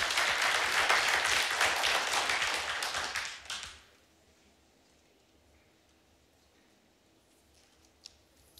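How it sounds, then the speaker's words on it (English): A church congregation claps together for about three and a half seconds, a bright, even burst of applause that cuts off sharply into near silence, followed by one faint tap. "We can clap for that."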